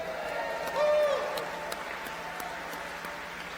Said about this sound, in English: so we're going to give them a round of applause